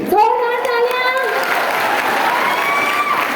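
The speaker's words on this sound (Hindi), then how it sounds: "हाथ उठा के जोरदार तालियां" An audience at an anniversary celebration event claps in a dense, sustained burst, with a voice calling out over the applause at first.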